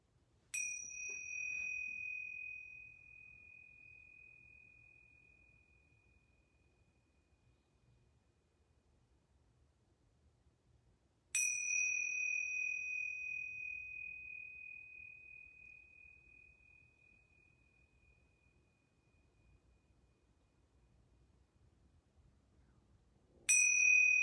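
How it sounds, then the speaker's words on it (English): Yoga bells are struck at the close of a home yoga class, giving clear bright metallic dings about eleven seconds apart, each ringing out in a long slow fade, with the third strike landing at the end in an otherwise quiet room. "I'm going to ring these yoga bells 3 times."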